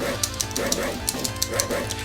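Dogs in the arcade game Crime Fighters bark in a rhythmic series of short yips over the game's looping music, with a voice talking alongside.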